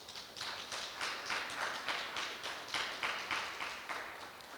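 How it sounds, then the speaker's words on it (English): An audience at a Namibian roundtable keynote applauds the host, a continuous crowd clapping with rhythmic surges, moderately distant and steady with no talking over it. "Give him a round of applause"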